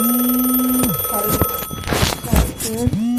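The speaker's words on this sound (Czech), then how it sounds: "Zvoň mi mobil." A mobile phone rings with steady electronic tones that stop and restart, and other brief clattering sounds overlap the ringing.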